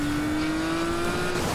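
Car engine in Need for Speed Payback, a Ford Raptor-era street racing game, droning steadily with a sustained tonal whine and rising pitch throughout, loud and continuous with no talk.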